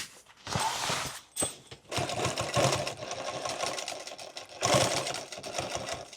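A sewing machine stitches an extra-large tool bag in loud, steady rapid bursts, with brief pauses between runs and no talking.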